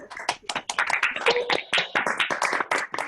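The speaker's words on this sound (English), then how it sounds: "another round of applause for Jenny from all of us" A few people clap for a speaker after a short talk during lockdown: sparse, distinct hand claps close to the microphone, uneven and overlapping, with no talking.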